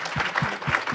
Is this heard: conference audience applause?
yes